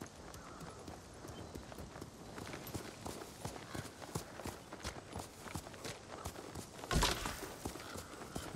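Horse hooves clop in a steady walking rhythm in Ghost of Tsushima, a regular stream of close footfalls with a brief louder impact near the end.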